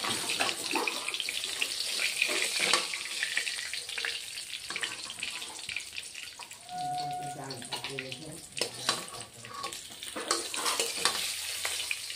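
Catla fish pieces frying a second time in hot mustard oil, a steady bright sizzle that crackles and hisses continuously, loud and close, with brief spattering bursts and no talking.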